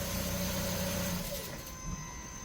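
A Renault Samsung New SM5 LPI from 2012, with a stalling fault, runs steadily after starting, giving a continuous mid-pitched idle hum close by that thins out slightly toward the end, with no talking.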